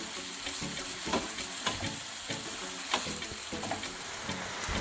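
Beef and vegetables sizzle steadily in a pan while being stirred and mixed, with a continuous close frying hiss broken by soft scraping strokes as a utensil turns the food over.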